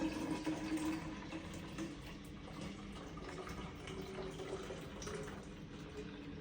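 Steady rushing of water pouring into a container while making cold brew coffee, a continuous close splashing flow with no talking.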